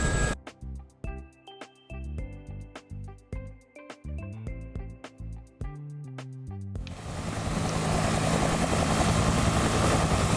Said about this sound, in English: Fadelberg coming with the Huey